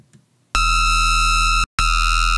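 A dubstep bass synth run through tube distortion, OTT compression and a dimension expander, two sustained buzzy, harmonically dense notes separated by a short gap, loud and dry after a near-silent start.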